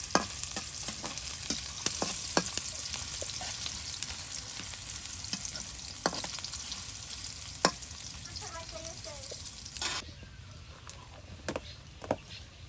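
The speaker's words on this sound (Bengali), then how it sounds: "এই যে এখন পেঁয়াজ দিয়ে দেওয়া হলো, এগুলো এখন তেলে ভেজে নিয়ে আপনার কুমড়োর তরকারি রান্না করা হবে।" Onions fry in hot oil for a rural village pumpkin curry, a steady close sizzle punctuated by sharp taps and scrapes of a spoon stirring against the pan.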